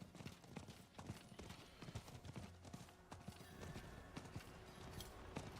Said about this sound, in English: I'm glad I got the fire horse, though.